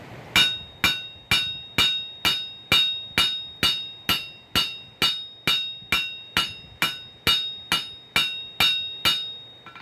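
Hot steel pick-up tongs hammered flat on an anvil, about twenty evenly spaced ringing blows in a steady rhythm, each strike bright and metallic with a short decay, close and loud with no talk.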